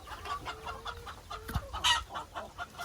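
Farm chickens cluck in short, uneven bursts close by, with one sharper squawk midway through the clip.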